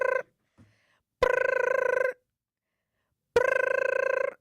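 A telephone rings in two long, loud trilling bursts separated by a pause, with a short clipped ring at the start and a faint brief sound between.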